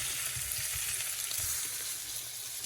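Pieces of squirrel browning in hot grease, a steady loud sizzle and crackle of frying close by with low thumps underneath, no talking.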